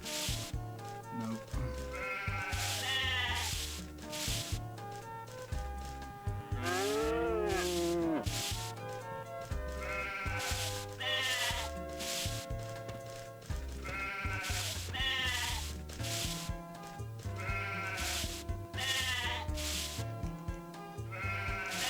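Repeated sheep bleats from the Harvest Moon video game (Harvest Moon: Rescue the Harvest Goddess), rapid cartoonish bleating calls over game background music, sounding again and again in quick succession.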